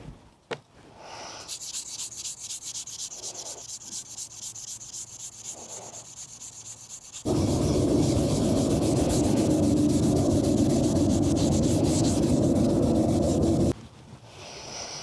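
A garden tool blade being sharpened with an oiled stone, a steady rhythmic rubbing that swells into a louder, continuous scraping grind partway through, close up with no talk.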